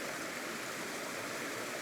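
A river on a mountain trail near Springer Mountain rushes past in a dense, even roar of flowing water, close and constant, with no voices.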